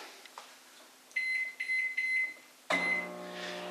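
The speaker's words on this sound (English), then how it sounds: "Let's go with the microwave" A microwave hums steadily, then beeps three times in a row with a sharp electronic tone, followed by a longer final beep as the door clicks.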